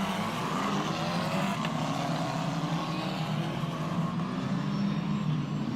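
A steady Australian Formula 4 racing car engine drone holds at a constant pitch throughout, loud and unbroken, revving nearby before a formation lap.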